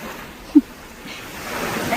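Ocean waves wash along a shore in a steady, soft surf hiss that swells slightly toward the end, with one brief knock near the start.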